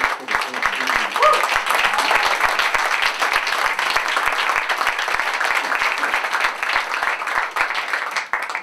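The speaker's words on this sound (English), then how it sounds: "let's give a big round of applause to Jesse and Peter" An audience at a live concert in the Solley Theater claps for the band, a dense, steady round of applause that holds throughout, with a brief voice heard near the start.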